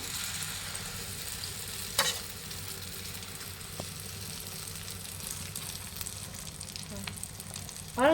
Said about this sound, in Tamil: நம்ம மீன் வறுத்த கடாயிலேயே வந்து ஆம்லெட் போட்டுப்போம்